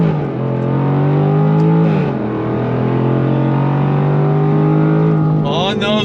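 A 2023 Jaguar F-Type R pulls hard in first gear on throttle, its engine note loud and close, climbing steadily in pitch before a brief dip and a renewed rise, with engine noise dominating throughout.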